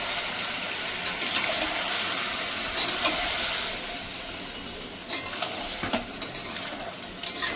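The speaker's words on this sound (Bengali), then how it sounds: "তোমাদের চিকেনটাকে আমি একটু ভালো করে কষিয়ে নেব" Marinated chicken with a bay leaf frying in a pan, a steady close sizzle with intermittent scraping and stirring clatter, the stirring growing busier toward the end.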